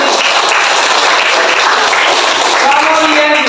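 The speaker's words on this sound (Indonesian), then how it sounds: "tepuk tangan untuk Selvi." A classroom breaks into loud, sustained applause for a student, dense clapping from many hands that carries on evenly, with some voices mixed in.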